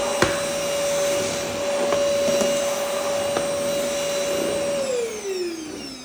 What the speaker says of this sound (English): let's go ahead and put some dirt here that we got from the unboxing and see if you're easily able to suction it with the